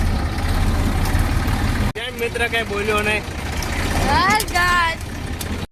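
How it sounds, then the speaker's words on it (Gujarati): A farm tractor driven by small children idles with a steady low rumble, then someone talks over the continuing engine noise after a brief cut. "જોઈ લો મિત્રો આ નનકા નનકા છોકરા પણ ટ્રેક્ટર મીના છે આંકવા"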